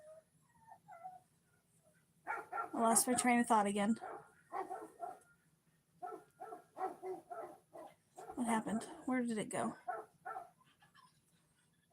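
A pet dog named Cash whimpers faintly and intermittently at home, mostly masked by nearby conversation between people talking over it.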